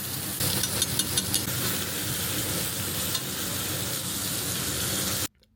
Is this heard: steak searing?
yes